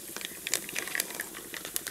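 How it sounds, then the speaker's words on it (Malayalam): Rice grains popping and crackling while roasting in a pan for a tender jackfruit thoran, heard as scattered sharp little pops and ticks at close range with no talk. "അരി ഇങ്ങനെ പൊട്ടി"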